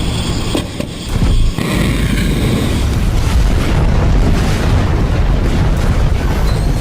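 Ballistic missile explosions over Tel Aviv during a Houthi attack on Israel produce loud, sustained booming and a heavy rumbling wash of noise, with a brief dip before the blasts swell again.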